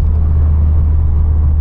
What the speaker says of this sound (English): I'm going to lift off the accelerator and we're going to get engine braking